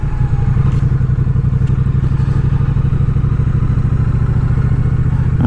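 Triumph Street Cup motorcycle engine idling steadily up close, a loud low rumbling throb with faint mechanical clatter running continuously and alone.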